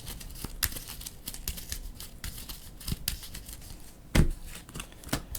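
Marvel Champions cards being shuffled back into the deck on a tabletop, a quiet series of quick papery riffles and snaps with one sharper slap near the end, close and alone.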